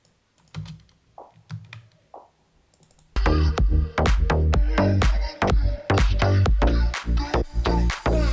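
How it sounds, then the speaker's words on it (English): Electronic clap drum samples: a few sparse, quiet claps, then a loud, steady drum groove with sharp clap hits repeating in a tight rhythm. "Then there are basic claps over here."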